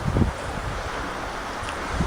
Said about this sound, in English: it's been pretty windy